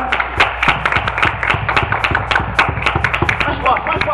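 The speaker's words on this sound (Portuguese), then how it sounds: "Mais forte, bate palma!" A church congregation claps harder and faster on urging, a dense, busy mass of overlapping handclaps and thumps with a voice talking over the steady clatter.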